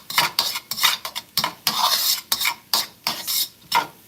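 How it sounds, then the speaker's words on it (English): A spatula stirs seasoning into rice in a cooking pan, giving close, loud scrapes and light clinks in quick irregular strokes with a faint sizzle between them, and no talking. "So we're going to stir that in."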